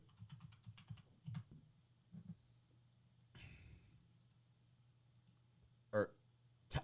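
Keys on a computer keyboard tap in a quick run of soft clicks, close but quiet, followed by a few scattered presses and a breath, with no clear speech over them.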